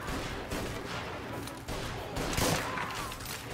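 Gunfire in the video game Mafia: Definitive Edition comes as repeated bursts of shots in a busy, dense firefight, with a sharper, louder volley near the middle.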